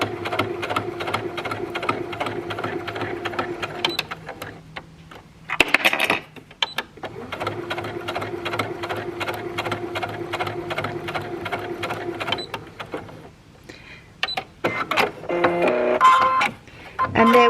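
Sewing machine running in steady bursts while top stitching a shirt collar, close and clear, with a brief pause and rustle partway through and faster stitching near the end.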